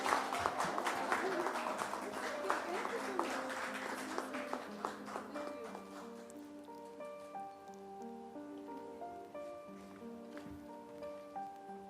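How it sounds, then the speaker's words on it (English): An audience at a Disha Patani meet-and-greet event bursts into dense, loud applause that gradually thins out to scattered claps while background music plays. "Ladies and gentlemen, please put our hands together for this show."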